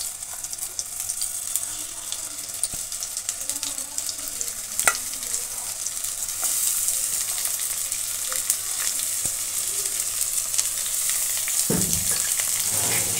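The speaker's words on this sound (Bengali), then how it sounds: "মাছটা দিয়ে আমি সুন্দর করে ভেজে নেব।" Silver carp pieces fry in hot oil in a heated kadai, giving a steady, close sizzling hiss throughout with occasional sharper crackles and a slight swell near the end.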